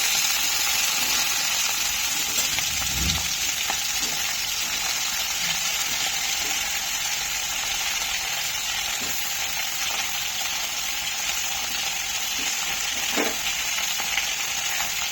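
Potatoes and ridge gourd sizzle in a pan with onions, green chillies and garlic. A steady, even frying hiss runs throughout with a few soft stirring clinks, and no one speaks.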